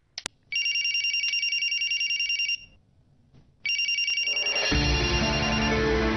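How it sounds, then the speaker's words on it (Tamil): A telephone rings with a bright electronic trill, loud and near: two long bursts with a short gap between them, the second running into a low hum of other household noise. "ராகினி போன் அடிக்குதுமா"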